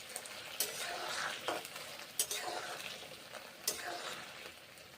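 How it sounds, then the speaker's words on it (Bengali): Okra fries and sizzles softly in a pan, with a steady hiss under occasional scrapes and light clacks as the pieces are stirred. The whole scene is fairly quiet. "এখন ঢ্যাঁড়সগুলো ভেজে নিচ্ছি।"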